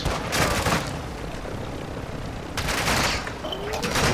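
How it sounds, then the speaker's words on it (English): Gunfire in the video game DMZ, a dense crackle of shots in bursts near the start and again toward the end, with steady noisy texture between. "I see gunfire on the compass."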